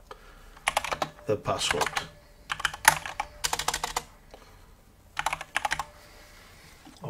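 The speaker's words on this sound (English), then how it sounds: "I'm just going to type here" Fingers type on a computer keyboard in irregular bursts of rapid, close clicking separated by short pauses, with a person speaking briefly between them.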